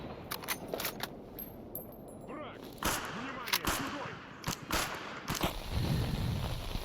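Sharp, loud gunshot cracks from a basic Jorgensen bolt action rifle without scope or sights, fired several times at uneven intervals in the STALKER Zona mod video game, with bolt-cycling clicks between shots and background game ambience.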